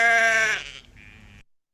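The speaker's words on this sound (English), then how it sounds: "The first one is that sheep." A recorded sheep bleats once, a loud wavering cry that fades into a softer, thinner tail before cutting off, with faint background hiss.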